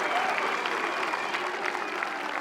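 A crowd cheering and applauding at the MPO final of the 2024 PDGA Pro Disc Golf World Championships, a continuous roar of clapping and raised voices held at a steady level throughout.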